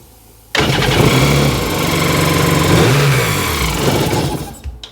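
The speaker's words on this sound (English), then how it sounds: "Revs just fine." A 2002 Sea-Doo GTX jet ski engine under repair starts abruptly and revs loudly up and down twice, close and alone, before cutting off at the end.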